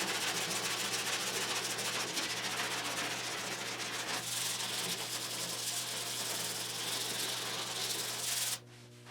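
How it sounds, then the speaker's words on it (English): Body filler on the wheel arch of a 1972 Triumph GT6 is sanded by hand in continuous, even rubbing strokes, loud and close with a steady low hum beneath, ending suddenly near the close. "now it's time to sand it and see if we can finish with this"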